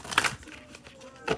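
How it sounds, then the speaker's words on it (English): A tarot card deck being shuffled, giving quick papery riffles and soft rustling bursts near the start and end, fairly quiet and close with no speech. "I actually want to shuffle this really, really fucking well."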